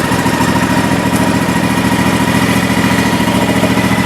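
An Ariens IKON XL 52 zero turn mower engine runs at a steady idle, a loud, close, even rumble with constant throbbing and no changes in pace throughout.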